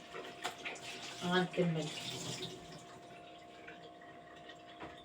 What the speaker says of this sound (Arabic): دابا غادي نغسل هاد المعدن هكا